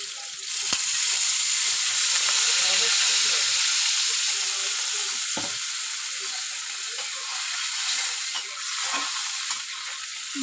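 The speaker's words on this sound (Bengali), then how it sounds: "এবার আমি সামান্য জল দিয়ে দেবো।" Loud, steady sizzling and hissing as a little water goes into a hot pan of fish curry, the broad crackle swelling then settling over about ten seconds.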